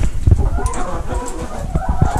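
Chickens cluck and fuss inside a winter coop set up in an old horse stall, a dense, continuous clatter of close fowl calls with short bursts rising over the flock's steady murmur.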